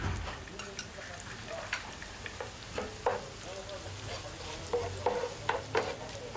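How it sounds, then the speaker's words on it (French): Spices frying in a pan with mustard, saffron and garlic, a steady sizzle crackling like light rain, punctuated by sharp spoon clinks and scrapes against the pan, close and moderately loud. "Là, nous mettons nos épices que nous mélangeons avec le safran,"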